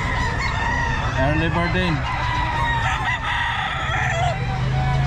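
A Kelso rooster crows at a busy pet market, its long cock-a-doodle-doo rising clearly and close over a dense backdrop of clucking fowl and crowd chatter, with a man calling out over the noise.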